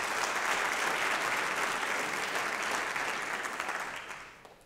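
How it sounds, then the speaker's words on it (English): Steady, dense applause from a college convocation audience, honoring Governor Newsom and the legislature, holding at full strength before tapering slightly near the end. "So let's give a round of applause to Governor Newsom and the legislature."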